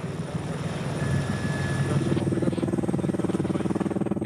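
Rescue helicopter of the French air force hovering in place during a winching exercise with a rescuer and stretcher, its steady rotor thump and engine drone loud and continuous throughout.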